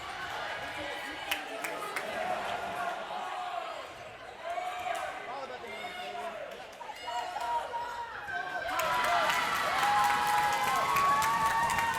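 Crowd cheering and applauding at a men's quarter-final of the 2019 Canadian national dodgeball championship, a steady roar in an arena that swells louder toward the end, with scattered shouts and ball thuds mixed in.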